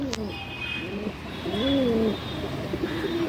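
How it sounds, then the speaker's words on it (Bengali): A female Madrasi pigeon of an old line coos in a few soft, wavering phrases, close by, with a faint voice murmuring in the background. "তো দেখুন আর একটা পায়রা মাদি"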